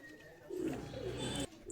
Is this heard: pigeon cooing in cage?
yes